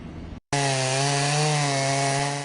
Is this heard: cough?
no